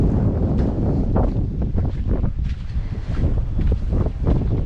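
Strong wind buffets the microphone in gusts outside an Outback general store, a loud, low roaring rumble that swells and eases without pause.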